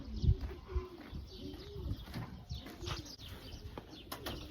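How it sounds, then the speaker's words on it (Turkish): Tumbler pigeons coo and flutter nearby while flying, soft calls repeating with occasional wingbeats and light chirps over a quiet outdoor background. "Dönekle bir şansımız deneyelim. Dönek uçuralım."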